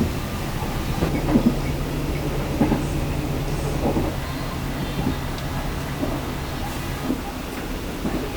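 A passenger train on the way to Yogyakarta rumbles steadily from inside the carriage, with a low hum and faint rhythmic clicks of the wheels over the rails.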